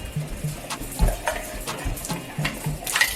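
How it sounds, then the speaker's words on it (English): A spoon stirs two heaped tablespoons of seasoning into water for curry fried rice with holiday ham and shrimp, giving soft repeated scraping and clinking strokes at a steady rhythm, close and moderately quiet, with no talking. "Mix it up in the water"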